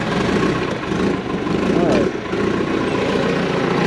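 A backhoe engine runs at a steady idle, a loud continuous rumbling drone close by, briefly dipping midway, with a voice speaking over it.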